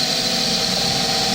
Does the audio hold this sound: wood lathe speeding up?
yes